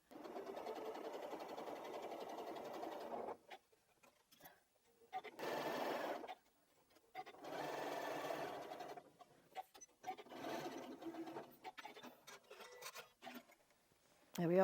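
A sewing machine top stitching a quilted strippy bag whirs in several steady bursts separated by brief pauses, quiet and close with no talk.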